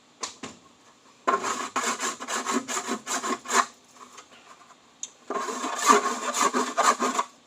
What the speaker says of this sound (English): So I'm taking my trusty old half round and just smoothing out these cuts.